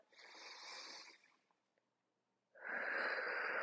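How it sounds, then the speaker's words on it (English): Two deep breaths taken during a seated side stretch from a chair, the first a long airy inhale that fades out, then a pause and a louder, rougher breath close to the microphone. "Take a good breath."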